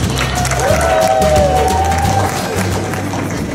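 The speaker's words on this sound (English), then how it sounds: "Let's give him a round of applause." An audience applauds to welcome a speaker at a talk on positivity and kindness. The clapping is a dense, steady crowd sound for the whole stretch, with a whistle-like tone rising over it and a low hum underneath.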